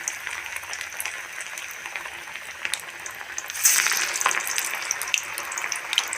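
Mutton vada frying in hot oil, a steady broadband sizzle with crackling bursts that swells louder midway through, heard alone without voices.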